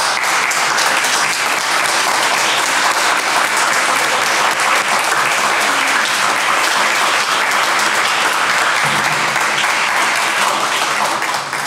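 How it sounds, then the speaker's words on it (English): Loud, sustained crowd applause at a Latino community exhibit event, honoring the community team, runs at an even, dense level throughout with no speech over it. "give them a round of applause"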